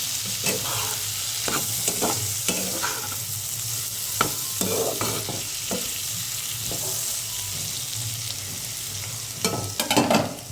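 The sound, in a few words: frying potatoes and cauliflower leaves in a pan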